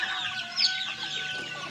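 Chickens cluck and murmur close by, a few soft calls overlapping in a brief, busy burst with no talking.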